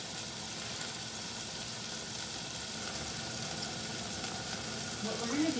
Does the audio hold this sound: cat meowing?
no